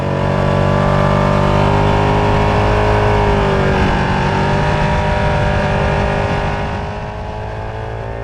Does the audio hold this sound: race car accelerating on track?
yes